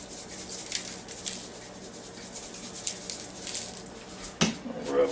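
Hands rub seasoning into a pork butt, a soft steady scrubbing and squishing close by, ending in a brief louder knock.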